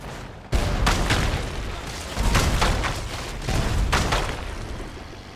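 Gunfire in Dead Rising 4 comes as loud, booming bursts, roughly three heavy volleys in a few seconds, each decaying into a rumbling tail, with no talking.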